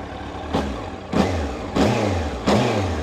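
An original R1 sports motorcycle engine is blipped four times in quick succession, each sharp rev rising and falling back to a low idle, close and fairly loud.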